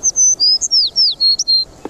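Birds sing close by in a wooded park, a string of clear, rapid whistled and chirping phrases with brief gaps between them, loud over a quiet background.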